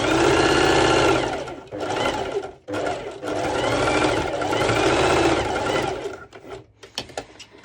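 Singer heavy duty sewing machine stitching through thick layers of bikini fabric, loud close whirring bursts broken by short pauses, slowing and stuttering toward the end.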